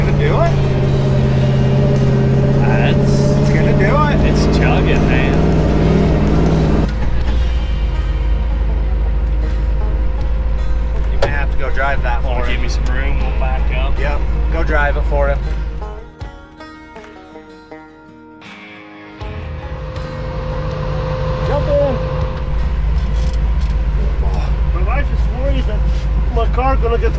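A truck in two-wheel drive chugs and labors with a loud, close engine drone that drops away briefly mid-clip before resuming, while people talk over it.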